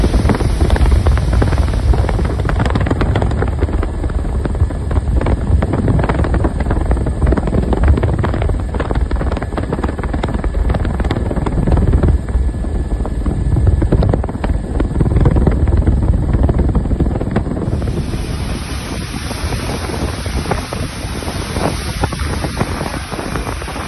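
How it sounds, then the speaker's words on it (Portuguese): Strong wind driven by a large warehouse fire at a distribution depot buffets the microphone in a loud, continuous roar with gusting swells and no speech. "Esse vento que tem aqui, ele é causado pelo próprio incêndio, o que acaba alimentando as próprias chamas."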